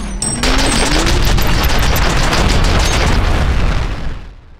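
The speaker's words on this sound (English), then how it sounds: "It'd be nice if these Terrans stopped shooting so I can shoot back" Enemy gunfire in the shooter game FEAR: a dense, loud, continuous barrage of overlapping shots and booms that holds steady for several seconds before tapering off at the end.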